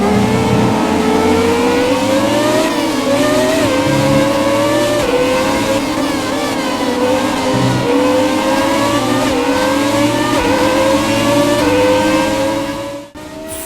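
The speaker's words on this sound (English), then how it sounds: "And we start the show aboard the absolutely gorgeous Williams car from Damon Hill in 1996." A high-pitched Williams Formula 1 car engine in the F1 2017 video game revs continuously, pitch climbing and dropping through gear changes, loud and sustained, ending with a brief abrupt cut near the end.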